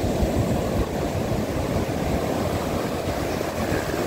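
Ocean waves roll and crash continuously in a steady, broad roar of surf, loud and close with no voices.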